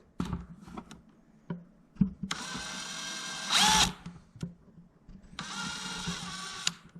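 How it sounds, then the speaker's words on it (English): A power drill whirs in two bursts of several seconds each, drilling into a plastic bucket, close and fairly loud, with clicks and handling knocks in between. "the drill bit's walking a little bit because there's a dimple there"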